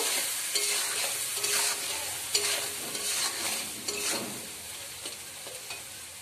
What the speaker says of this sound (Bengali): এবার একটু নেড়ে নিচ্ছি সবগুলো উপকরণ একসঙ্গে আমি একটু কষিয়ে নেব